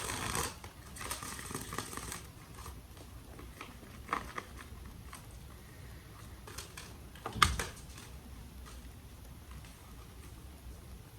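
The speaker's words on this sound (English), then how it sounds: "I can shuffle y'all, I promise." Tarot cards being shuffled in soft, papery riffling bursts, with occasional sharper slaps and clicks as they are handled close by.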